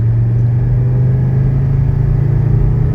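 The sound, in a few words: 1985 wagon accelerating at full throttle, 0-60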